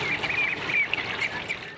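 Poultry in village coops on a hot day give a busy chorus of overlapping quacks and calls, steady and fairly loud at close range without pauses.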